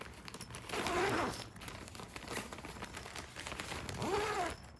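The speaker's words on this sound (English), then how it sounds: "Zipper works smoothly." Zipper on a fabric air conditioner window seal kit for a casement window, pulled in two smooth strokes about three seconds apart, close and fairly quiet, with soft fabric rustling between them.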